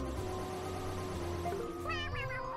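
A cartoon cat meows near the end of a Mario Party Superstars game, a short high call rising over busy game music and sound effects.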